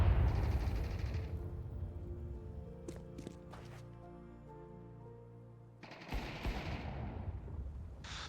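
Shooter video game gunfire, a loud opening burst that decays into a ringing tail, then another sharp rapid volley near the end, with quieter clicks between.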